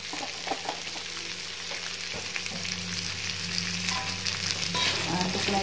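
Jengkol stir-fry seasoned with sugar sizzling in a pan, a continuous close crackling fry with occasional scrapes and taps as it is stirred.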